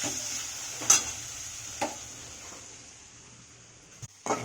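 Chicken sautéing in a pan over the stove, a steady faint sizzle broken by a few sharp stirring scrapes and clinks, ending with a couple of louder knocks.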